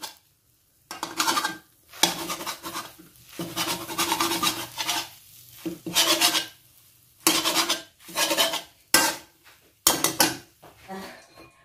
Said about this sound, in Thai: เสร็จแล้วมาตัดค่ะให้พอเป็นชิ้นๆนะคะ